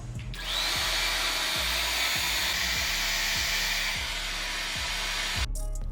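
A Pattern Beauty blow dryer fitted with a diffuser runs steadily at close range, a loud continuous airy whir with a low motor hum, starting and stopping with clicks at either end.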